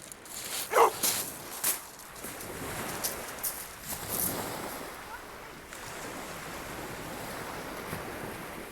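An excited dog barks on a shingle beach at Langney Point on a crisp December afternoon during beach fishing. A few sharp, fairly close barks cut through steady rolling surf and wind.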